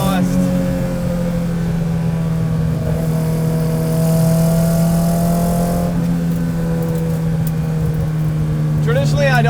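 Engine of a 1969 Datsun 510 track car, a loud, steady droning rev with a strong low hum and rising, falling overtones, heard close up under talk, with a burst of sharper crackle near the end.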